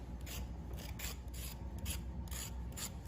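A blade shaves the skin off a carrot in a kitchen, giving quiet close rasping scrapes in a steady rhythm of short repeated strokes.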